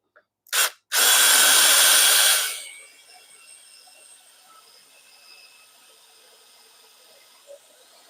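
A power drill bores into a cherry wood box in a home workshop, one loud sustained whine of about two seconds after a short burst, then fading to a quiet hum.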